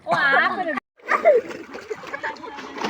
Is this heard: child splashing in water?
yes